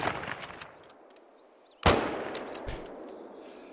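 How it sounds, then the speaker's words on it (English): A single sharp rifle shot cracks out loud and close in the hunting video game TheHunter: Call of the Wild, followed by a lingering echoing tail over quiet outdoor ambience. "I'm gonna go ahead and get ready to take a shot right here"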